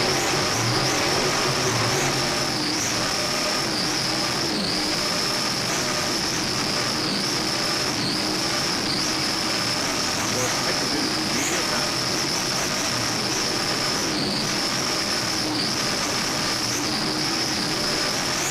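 Superboat powerboats race at the Miami Grand Prix, their engines giving a loud, sustained roar with a steady high whine that rises and falls slightly. No voices come through.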